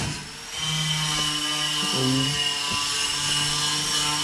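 A power sander levelling a body part on a 1983 Chevrolet Opala, a loud, steady high-pitched whine with shifting tones as the tool presses against the metal, close and continuous.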